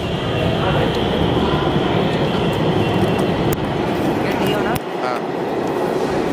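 A Kanpur Metro train runs with a steady, loud rumble and rolling hiss from inside the carriage, with faint clicks and a brief squeal under the roar.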